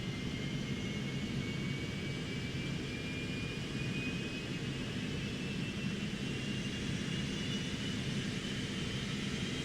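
A Citation Mustang jet engine spools up in the X-Plane flight simulator with a steady rumbling roar and a faint rising turbine whine that climbs slowly in pitch.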